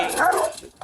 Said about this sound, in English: I got a Rottweiler here.